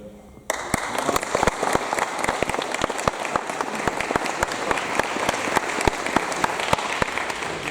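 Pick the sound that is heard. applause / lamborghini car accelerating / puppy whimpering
applause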